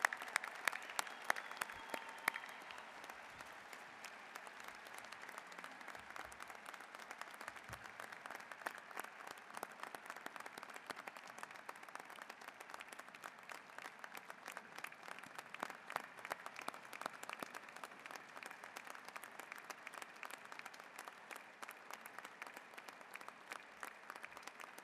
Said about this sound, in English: Ladies and gentlemen, let's give a round of applause to these new commissionees.